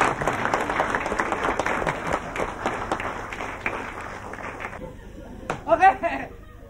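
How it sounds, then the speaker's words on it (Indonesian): Audience applause at an Indonesian comedy talk show, a dense burst of clapping that tapers off after about five seconds, followed by a brief voice and a short noisy flourish. "kita berikan tepuk tangan lagi ya"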